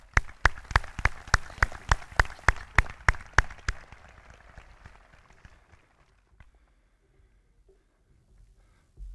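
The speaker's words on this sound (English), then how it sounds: "Please join me in a round of applause" Applause at a high school graduation ceremony: a dozen or so sharp, evenly paced claps ring out close by, then fade into a faint scattered patter and near silence.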